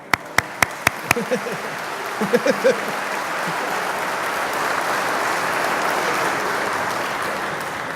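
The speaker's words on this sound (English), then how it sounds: "let's applaud that" At a Georgia Works graduation, a few sharp, loud claps ring out first, then brief voices cut in, and then audience applause swells into a broad, steady wash of clapping that continues to the end.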